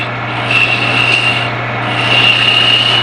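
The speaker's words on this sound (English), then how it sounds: "I'm going to switch to a little bit smaller roughing out gouge. And then I'll start to refine the shape a little bit." Wood being shaped on a lathe with a smaller roughing-out gouge, the workpiece held in a 3-jaw chuck: a steady, close rasping scrape over a constant motor hum, with brief sharper passes as the tool bites.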